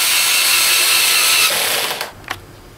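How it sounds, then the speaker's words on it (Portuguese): A 220-volt power screwdriver run on 110 volts at reduced strength drives a screw into MDF, giving a steady close whirring grind that cuts off partway, followed by a couple of brief faint clicks. "essa máquina de 220 eu deixo em 110, que ela fica mais, um pouco mais fraca. E fica bom para pôr esse parafuso"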